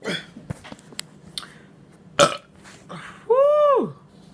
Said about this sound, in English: That's some good burps